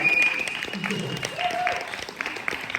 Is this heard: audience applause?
yes